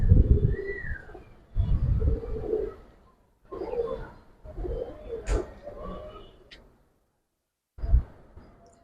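Giribaz and silver Bagha pigeons coo in a series of low, throaty rolling calls close by, several phrases separated by short pauses, with a sharp click or two between them.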